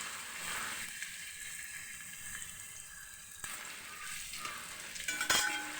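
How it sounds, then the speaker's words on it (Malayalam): Crushed garlic and ginger frying in hot oil for a fish chammanthi, a steady close sizzle with stirring scrapes and a brief louder clatter near the end, no talking. "അപ്പം നമ്മൾ ഇതിലേക്ക് വെളുത്തുള്ളി ചതച്ചത്, ഇഞ്ചി വെളുത്തുള്ളി ചതച്ചത് ഇടാൻ പോവാണ്."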